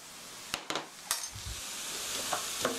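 Sugar and light soy sauce being stirred into a tofu sauce in a pan, with a few sharp utensil scrapes and clicks over a steady soft sizzle, close and fairly quiet.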